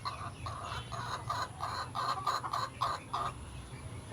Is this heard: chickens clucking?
yes